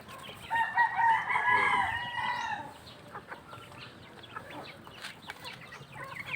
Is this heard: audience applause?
no